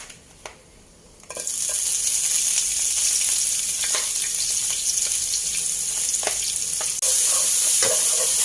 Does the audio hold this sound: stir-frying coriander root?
yes